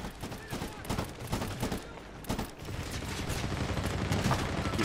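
Enemy gunfire in the shooter game Medal of Honor: Warfighter, several sharp bursts of shots spaced over a few seconds, followed by a denser run of rapid fire.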